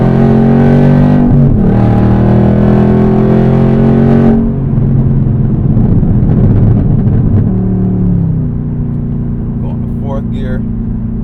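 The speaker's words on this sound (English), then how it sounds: "Downshift rev match in the 3rd gear." Manual-transmission car engine rev-matching on a downshift into third gear: a loud, close engine drone drops in pitch, a quick blip and rev change follow, then it settles at a lower hum while a person talks over it.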